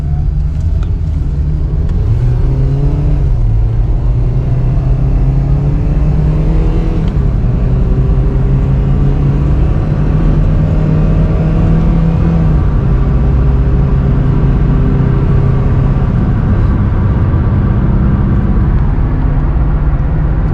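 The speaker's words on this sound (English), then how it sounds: "I believe this thing's accelerating pretty good." A 2014 Hyundai 1.6-liter four-cylinder car accelerates hard through the gears, its engine drone rising in pitch, dropping at each shift and climbing again, loud and continuous from inside the cabin, with no talking.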